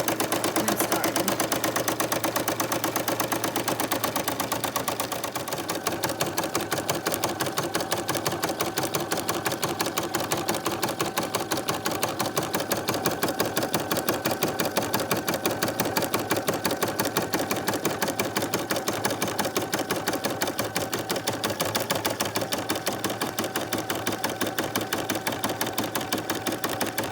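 A sewing machine stitches a zigzag seam on a small fabric notebook holder, its rapid, even mechanical clatter running steadily and close for the whole stretch.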